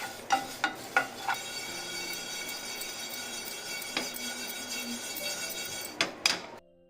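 Coriander seeds dry roasting in a pan over a slow flame, stirred with sharp scraping clinks at a steady rhythm over a soft continuous crackle, close and moderately loud, no talking.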